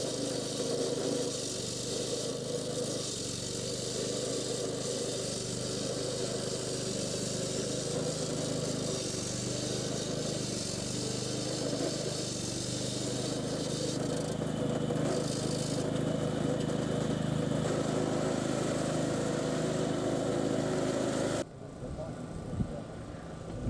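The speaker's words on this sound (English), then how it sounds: "precisely cutting the road edge, which is our guide for the face of the curb" A road-cutting machine slices along a road edge in preparation for a continuous concrete kerb, giving a loud, steady engine and cutting drone that runs for about twenty seconds before stopping abruptly, with faint residual noise afterward.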